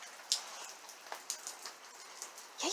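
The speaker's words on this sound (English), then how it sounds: "Is it so rainy?" Steady rain patters on surfaces outdoors, with scattered brighter drop hits through a soft continuous hiss, faint and fairly close, no talking.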